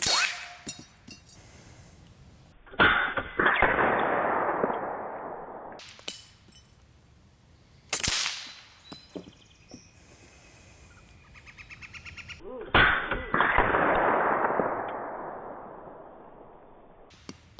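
An Air Arms .30 caliber SK19 PCP air rifle, a semi/full-auto model, firing outdoors: several sharp cracks spaced seconds apart, a few followed by longer hissing, rushing tails, with quiet gaps between.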